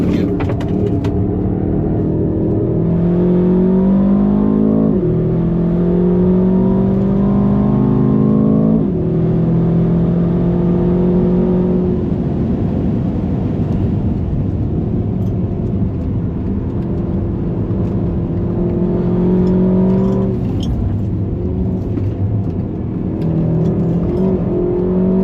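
Aston Martin DBX707 SUV on the Nürburgring, its engine pulling hard through the gears with repeated rising revs and upshifts, loud and sustained from inside the cabin.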